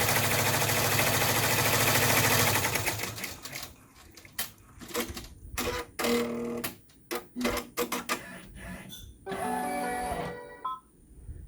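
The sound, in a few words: embroidery machine sewing lining of zip bag in the hoop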